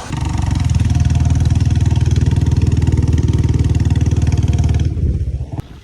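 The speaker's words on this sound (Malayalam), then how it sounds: "അങ്ങനെ നമ്മൾ കക്കാടംപുയിലേക്കുള്ള യാത്രയിലിതാ സൈലൻസർ ഊരി പോന്നിക്കണ്" A loud, rough motorcycle engine with its silencer removed thumps close by with a harsh, unmuffled rattle, holding steady before cutting off near the end.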